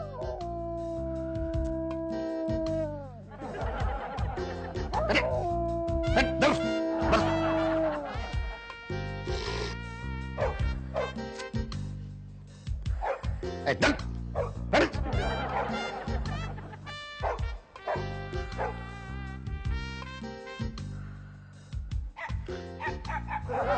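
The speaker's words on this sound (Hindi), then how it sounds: "बाहर वाकई कुत्ता भौंक रहा है।" A dog barks outdoors in a classic Hindi comedy serial scene, repeated yelps and howling woofs sounding loud and close amid music and other noise, continuing through most of the stretch with brief pauses.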